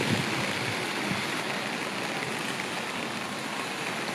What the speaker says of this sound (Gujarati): ફૂલ એટલે ફૂલ વરસાદ છે